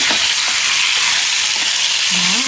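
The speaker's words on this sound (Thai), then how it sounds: "แล้วก็ ผัดให้เข้ากันเลยค่ะ" Liver stir-fried with roasted chili paste, onion, spring onion and chilies in a hot pan, a loud, dense, continuous sizzle with faint scraping stirs underneath.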